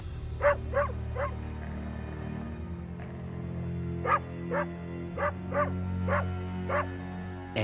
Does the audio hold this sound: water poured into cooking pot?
no